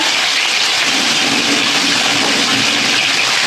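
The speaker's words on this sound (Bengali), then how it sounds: "তাহলে মাছগুলো আমি ভেজে নিই বন্ধুরা" Snakehead fish fry in hot oil in a pan, a loud, dense and unbroken hiss heard up close with no voices.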